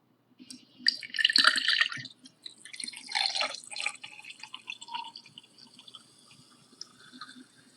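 Liquid is poured into a glass at home, a splashing, trickling pour in two main bursts that tapers into faint drips, close and alone without talk.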